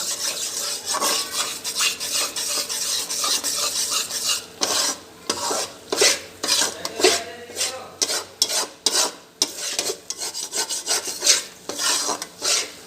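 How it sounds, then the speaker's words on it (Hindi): Besan halwa roasts over low heat while a spatula scrapes and rubs through the thick mixture in a pan, first steadily and then in loud, rhythmic strokes, with no talk. "ये हमने हल्की आंच पर भूनना है, ज़्यादा तेज़ पे नहीं भूनना ताकि ये जले नहीं"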